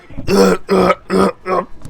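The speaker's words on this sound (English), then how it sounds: "Why do you have to press V to burp?" Four short burps in a row from Team Fortress 2, triggered by a key press, loud and close with brief gaps between them, the last one clipped and faint.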